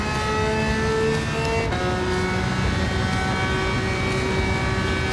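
Nissan Z engine droning at sustained high revs in Gran Turismo 7, loud and steady with a quick gear shift or pitch jump partway through, then continuing at a constant whine with no voices.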